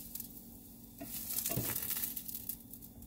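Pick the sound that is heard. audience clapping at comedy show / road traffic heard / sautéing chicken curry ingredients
sautéing chicken curry ingredients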